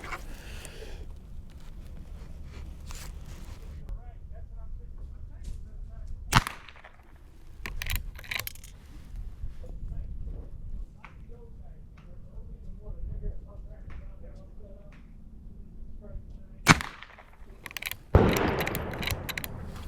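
Rifle shots from a Marlin 39A at an outdoor target range, three sharp loud cracks spread apart over quiet background.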